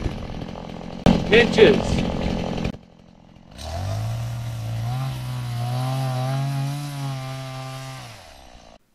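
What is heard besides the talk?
chainsaw cutting wood while clearing forest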